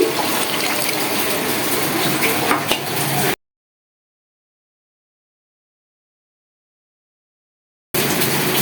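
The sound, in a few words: water being poured into rice and lentils for khichuri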